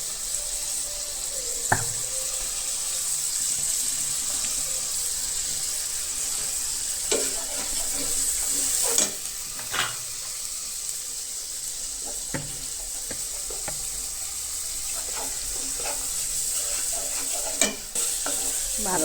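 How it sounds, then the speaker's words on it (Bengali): Spice masala is stirred and fried for a dried fish curry, a steady sizzle running under occasional spoon scrapes and clinks against the pan, with a faint high kitchen whine throughout. "এখন আমি মশলাটা দিয়ে দিচ্ছি।"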